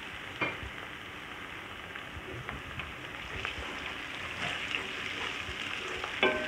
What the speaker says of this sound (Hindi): टमाटर अच्छी तरह मैं मैश कर लेती हूँ भून के।